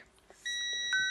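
A continuity tester lets out a steady, high-pitched electronic beep while checking wiring on a DualShock controller, starting abruptly and holding, faint and close, with no talking.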